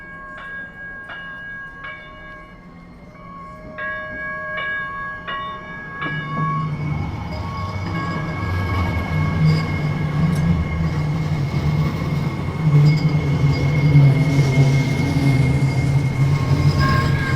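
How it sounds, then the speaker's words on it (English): A train passes through downtown Minneapolis. Repeated bright ringing tones at the start give way to a loud, swelling rumble and clatter of rail cars that grows closer and heavier until the end. "I'm gonna step up here while we watch this train go by."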